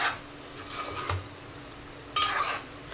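A spoon stirs stuffed brinjal and tomato curry with meal maker in a pan, giving a few soft scraping strokes over a faint background sizzle, close by and without talk.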